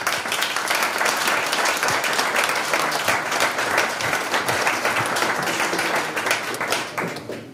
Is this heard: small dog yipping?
no